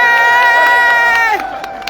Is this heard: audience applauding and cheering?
yes